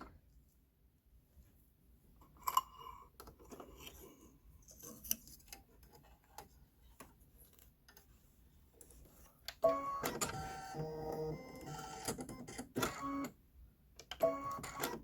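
An embroidery machine stitches an orange candy corn flower fill, quiet and intermittent at first with sparse ticks, then a denser burst of rapid mechanical clatter later on.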